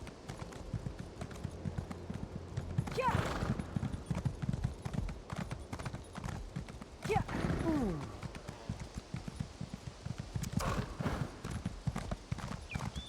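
Steady video game horse hooves clip-clop at a trotting rhythm throughout, with a brief whinny and a person talking over the top.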